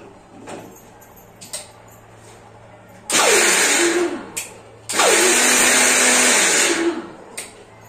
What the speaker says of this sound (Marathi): आता मिक्सरला असं मोठं मोठं वाटून घ्यायचं।